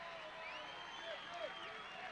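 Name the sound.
baseball crowd cheering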